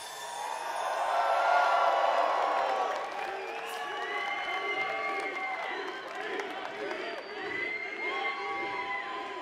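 A large crowd at Bethesda's E3 2017 press conference cheers, whoops and applauds loudly, swelling early and then holding as a dense, sustained roar with scattered shouts.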